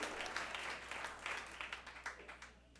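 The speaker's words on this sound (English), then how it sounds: "Let's give this man a round of applause," A small audience applauds a guest at an evening Broadway-themed event. The clapping is faint and distant, with irregular individual claps standing out, over a low steady hum. It tapers off toward the end.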